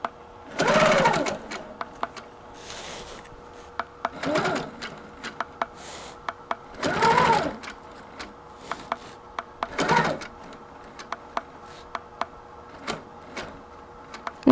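A sewing machine stitches a geometric quilting shape in a square, running in several short bursts of rapid stitching separated by pauses and light clicks, close and fairly loud, with a soft voice faintly present.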